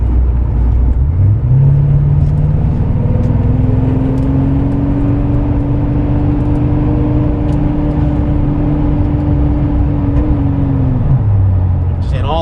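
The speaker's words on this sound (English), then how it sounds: "When I take my foot off, it goes down to idle." A Porsche 928S3 engine holds a steady raised rev for several seconds, then drops smoothly back to idle near the end, loud and close with a constant hum.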